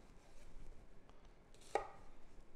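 A knife chopping a peeled onion half into quarters on a cutting board, a few soft taps and one sharp chop, quiet and close.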